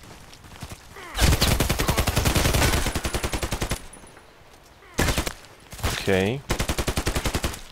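An SA58 rifle in Contract Wars fires in long rapid automatic bursts like a machine gun, the steady rattling strings broken by short pauses, loud and close, with a brief spoken word between bursts.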